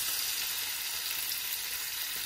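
Sliced onions sizzle and fry in a hot pan for fried rice, a steady, dense crackling hiss heard close and alone.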